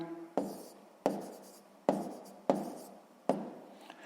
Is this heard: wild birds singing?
no